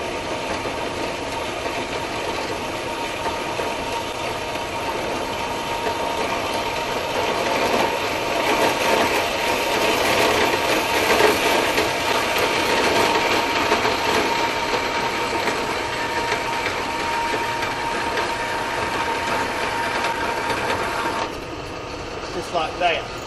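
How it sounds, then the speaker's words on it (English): A universal joint being sawn off behind its weld, giving a continuous loud mechanical buzzing drone that runs for about twenty seconds before stopping, with no talking over it. "We're going to saw this one off."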